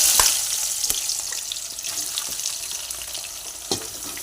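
Onions fry in hot oil for chicken kosha, a loud, continuous bright sizzle close up, broken by a few sharp clicks and clinks of a spoon against the pan.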